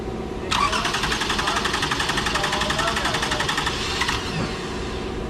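A Toyota engine cranks without catching. The starter churns in a steady, rapid rhythm for about three and a half seconds, then cuts off, heard up close.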